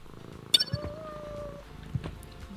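A cat in the video game Thief Simulator 2 gives a soft purr and a short meow, with a few light clinks and faint clicks around it, close and quiet.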